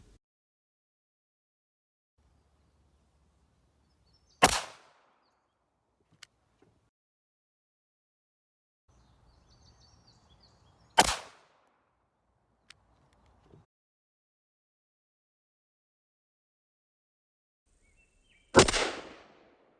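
Three sharp pistol gunshots fired with Murom small pistol primers, spaced several seconds apart with quiet gaps between, each a loud crisp crack with a short fading tail and faint outdoor rustle in between.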